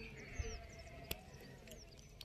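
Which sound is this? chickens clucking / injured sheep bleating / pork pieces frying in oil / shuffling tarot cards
injured sheep bleating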